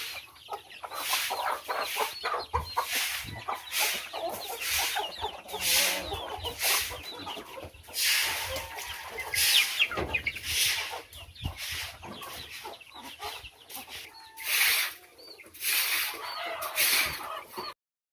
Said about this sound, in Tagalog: So dito may sisiw dyan,